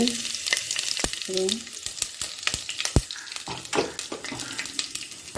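Oil crackles and sizzles loudly as curry leaves fry, with sharp pops and a few clinks of stirring throughout.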